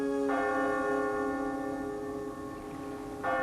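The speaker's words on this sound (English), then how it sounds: "clock began to toll." A town clock bell tolls in a harbour town, two deep, ringing strikes about three seconds apart, the first hum lingering and slowly fading before the next stroke lands.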